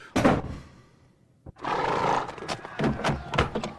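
Horses snort and neigh nearby, with hoof clatter and rough, loud bursts of animal noise over several seconds.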